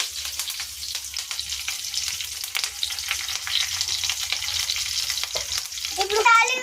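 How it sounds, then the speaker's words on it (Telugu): Dried red chillies, garlic and curry leaves frying in hot oil for a South Indian tempering give a steady, close sizzle with crackling pops throughout, and a brief louder spatter near the end. "ఇప్పుడు ఎండుమిర్చి ఎల్లుల్లి కూడా వేసేసుకుందాం. ఇప్పుడు కొంచెం కరివేపాకు వేసుకుందాం."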